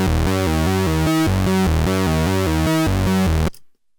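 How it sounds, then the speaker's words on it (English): A Roland 512 pair of oscillators, driven by a sequencer and given slight LFO pulse width modulation, pulses a loud, fat, buzzy repeating pattern that cuts off abruptly near the end. "The sequencer is driving both oscillators in a Roland 512,"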